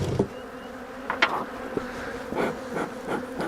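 Honey bees swarm around an open hive during a split inspection, a close, steady buzzing drone with faint knocks and rustles from handling.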